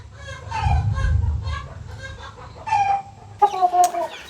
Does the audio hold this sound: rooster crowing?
yes